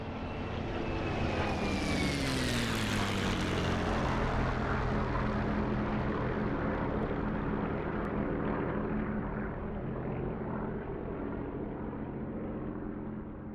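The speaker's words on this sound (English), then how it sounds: "I'll let you listen to the new sounds of the 109K4" A Bf109 K4 fighter engine in the flight game DCS World War 2, a loud, close, rough propeller roar that rises in pitch and then holds steady for the whole stretch, with no talking.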